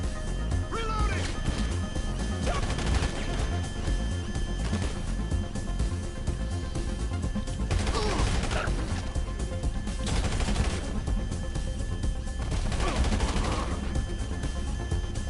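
Dense bursts of video game gunfire in GTA, rapid rattling volleys and scattered shots that go on with no letup, loud and close, with crashes in between.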